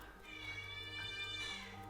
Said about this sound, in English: It is the cat's dinner time, so he might get a little loud.